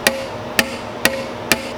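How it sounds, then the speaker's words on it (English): Four evenly spaced sharp taps of a hammer on the back side of a metal engine bay part, knocking out a dent in a quiet room. "essentially just tap the back side. And you can hear it come out."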